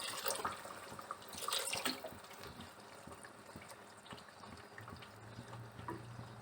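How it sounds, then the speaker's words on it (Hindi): Water runs and splashes steadily into a pot of beef korma, a continuous close-up pouring and trickling sound with no talking. "2 कप पानी ऐड करेंगे।"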